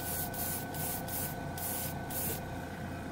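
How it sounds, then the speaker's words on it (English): An airbrush sprays a mist coat of Sunin7 acrylic paint in a steady hiss that cuts off and resumes in several short bursts. "let's put a nice mist coat here on the white"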